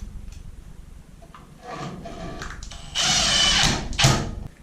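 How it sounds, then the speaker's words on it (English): A power drill drives a new screw into a sliding cavity pocket door panel, a short whirring burst rising in the second half after quieter handling noises, close and loud with no speech. "Put in our second screw."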